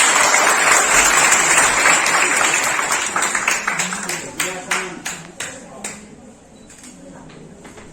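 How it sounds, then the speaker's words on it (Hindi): Loud crowd applause at a science day seminar for a drawing competition winner. Dense clapping at first, then thinning into scattered individual claps that fade out. "इनकी कलाकृति के लिए जोरदार तालियां होनी चाहिए"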